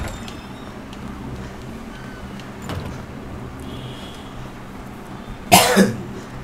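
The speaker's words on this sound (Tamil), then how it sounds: "இருமல்" A single sharp cough bursts out near the end, loud and close, over the low ambient hum and faint mechanical noises of a Resident Evil 2 Remake PC mod.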